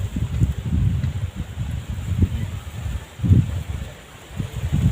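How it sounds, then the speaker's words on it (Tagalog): Outdoors on a stormy day while fishing, wind buffets the microphone in low, rumbling gusts that swell and fade unevenly, loud and close throughout with no talk. "Hangin yung maingay mga idol."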